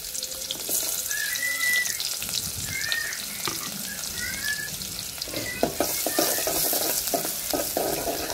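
Onions dropped into hot oil in a pan and sizzling loudly, a dense close hiss with scraping stirs and clicks, swelling brighter toward the end.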